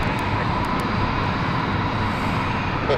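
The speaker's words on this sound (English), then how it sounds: "on final, we have the Ibiza flight, which is just coming in right now" A passenger jet on final approach into London City Airport, its engines a steady, dense broadband roar that holds level throughout without rising or fading.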